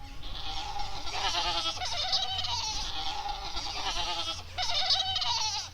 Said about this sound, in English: All the goats came one by one and stood next to Almi'za Saneeya.